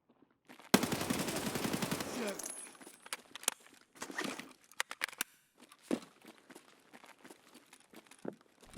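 Loud sustained automatic gunfire bursts in the Escape From Tarkov shooter, a long dense volley followed by scattered shorter shots and clatter, with a voice talking over parts of it.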